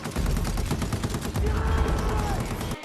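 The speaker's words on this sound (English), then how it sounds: "The gunner turret is exactly what it sounds, a turret where you, the player, are the gunner." Rapid, continuous automatic fire from a player-manned gunner turret in the WWI trench-warfare game Trenches, dense and loud throughout with no pauses.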